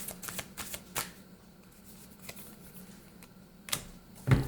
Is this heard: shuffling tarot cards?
yes